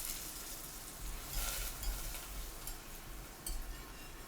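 A quarter cup of butter melts in a pan for poutine gravy, giving a steady close sizzle and crackle with brief louder swells as it is stirred.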